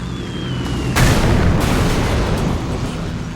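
A loud bomb blast in the aerial combat game Wings of Steel bursts out about a second in and then rolls on as a sustained rumbling boom, following a faint whistling tone.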